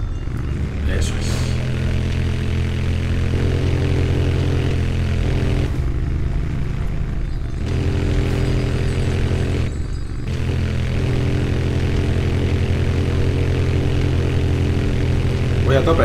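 Motorcycle engine in Tomb Raider Underworld, a continuous loud droning roar as the bike climbs steps, close and sustained with brief dips, and a voice talking over it.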